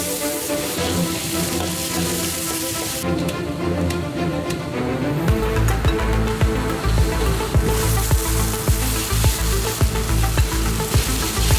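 A fresh batch of champon vegetables and noodles fries in a busy Fukuoka restaurant kitchen with a loud, steady sizzle. Rapid metallic clacks of stirring and tossing come in after the first few seconds.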